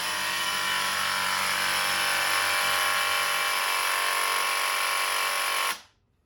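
A Graco Truecoat 360 DS handheld paint sprayer pump runs steadily while priming into a waste area, a loud continuous electric buzz that holds evenly for several seconds and then cuts off abruptly.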